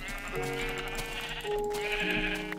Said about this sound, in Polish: O, owce.